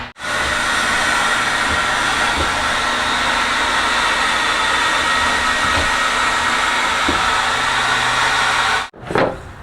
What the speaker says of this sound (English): I'm taking a hairdryer to the paint.